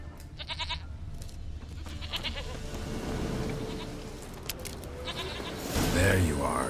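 A goat bleats in the fantasy game The Witcher 3, several wavering cries spread through the scene with a louder one near the end, while a voice talks in between.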